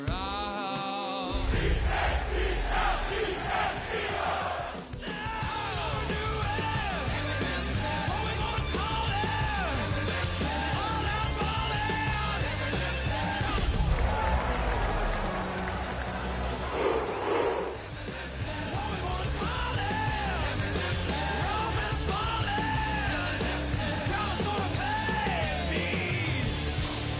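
Dense, roaring stadium crowd in an EA Sports football game, Eagles versus Browns, yelling continuously and loudly for nearly half a minute, mixed with music-like tones and a broad wash of noise, with no clear talk.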